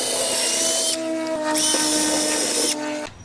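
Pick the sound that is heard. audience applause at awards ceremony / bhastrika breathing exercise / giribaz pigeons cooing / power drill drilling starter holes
power drill drilling starter holes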